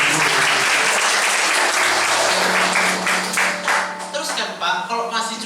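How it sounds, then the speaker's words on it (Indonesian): Enthusiastic applause from a large church congregation, dense and sustained, gradually thinning out toward the end. "Tepuk tangan yang meriah"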